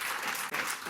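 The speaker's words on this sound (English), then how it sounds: "So can we keep him a round of applause?" Brief burst of audience applause closing a talk on Jain cosmology, a dense continuous clapping texture without clear speech on top.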